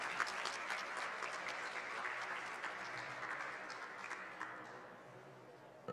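Steady applause from a crowd at a press conference at the 2022 Bologna Children's Book Fair, sustained clapping throughout with no voices standing out.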